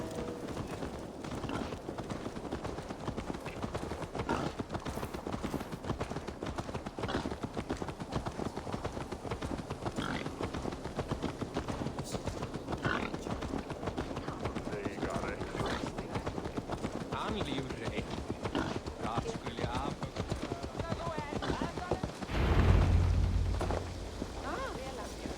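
Horse hooves clip-clop steadily in Assassin's Creed Valhalla, a continuous rhythmic trot through the whole stretch with a muffled thump near the end and voices faintly in the background.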